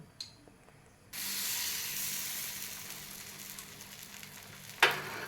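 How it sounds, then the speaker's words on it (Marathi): A fasting dosa cooks on a hot pan: a second of near quiet, then a sudden steady sizzle that fades slowly, with one brief clatter near the end. "दुसरा टाकला आता पाच मिनटं शिजून द्यायचं"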